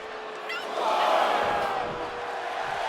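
A wrestling arena crowd in WWE 2K24 cheers steadily, a broad, distant roar that swells briefly and then holds for a few seconds.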